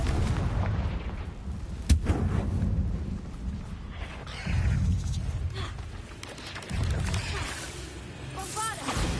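Booming magical blasts of the Confringo fire spell in Hogwarts Legacy gameplay, heavy rumbling bursts and a sharp crack amid continuous combat noise, with a voice over the action.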